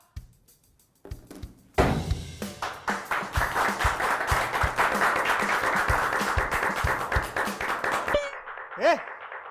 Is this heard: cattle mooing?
no